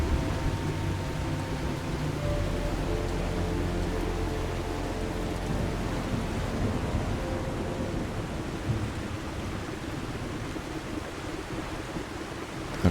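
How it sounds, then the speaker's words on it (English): Heavy rain with rumbling thunder in the video game The Last Caretaker, a dense continuous downpour roar with deep low rolls, loud and unbroken for the whole stretch. "That is some heavy rain."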